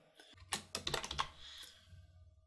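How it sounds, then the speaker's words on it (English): Quiet clatter of keys on a computer keyboard, a short burst of several quick taps close up, then a fading tail. "So what I'm going to do is I'm going to type in YouTube tab."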